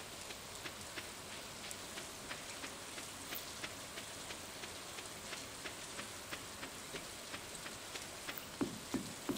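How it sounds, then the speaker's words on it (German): Soft steady rainfall in the Stardew Valley video game, a quiet continuous patter with faint regular taps, alone with no talk. "Ach, es regnet ja."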